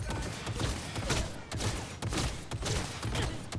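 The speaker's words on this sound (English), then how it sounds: "this guy's got a massive machine gun" A heavy machine gun fires in the Cyberpunk video game: continuous rapid bursts of loud, punchy shots with dense rattling repeats and no pauses, close and dominant throughout.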